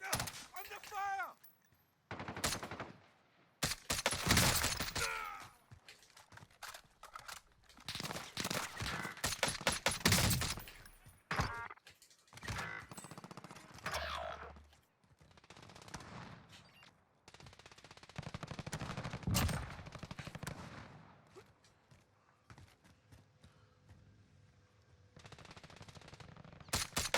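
Gunfire in Call of Duty Warzone on Rebirth Island with a DMR-14 loadout: repeated bursts and single loud cracks spread across the stretch, interleaved with game announcer callouts and voices talking.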